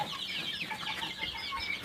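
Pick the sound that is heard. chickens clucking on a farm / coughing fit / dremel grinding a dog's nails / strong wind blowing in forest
chickens clucking on a farm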